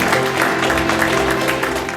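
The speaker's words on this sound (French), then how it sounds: "Je vous demande d'applaudir" An audience claps for a young singer-songwriter at a community event marking the international day of la Francophonie, a short, loud burst of close, dense applause.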